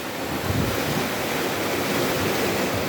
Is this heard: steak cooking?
no